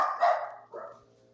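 A dog barks on a stage close to a microphone, two loud barks a half-second apart with a steady low hum beneath and no talking.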